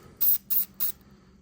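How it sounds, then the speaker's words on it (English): Three short bursts of aerosol oil sprayed onto the line guide rod of a baitcaster fishing reel, each hiss lasting about a fifth of a second with brief pauses between, close and fairly loud. "We're going to just spray that with some oil."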